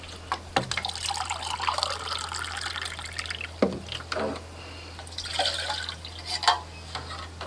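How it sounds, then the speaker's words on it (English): Two cups of water poured into a pot on a camping stove at a carp fishing spot make soft, intermittent trickling and splashing bursts, fairly faint and close, with brief pauses between pours. "pour some water first, 2 cups just like the last one."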